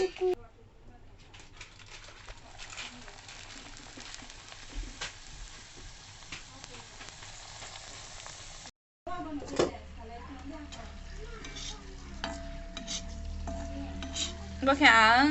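Food deep-fries in a pan, a continuous soft sizzle and crackle with occasional stirring scrapes, briefly cut off midway and louder afterward, with voices talking in the background.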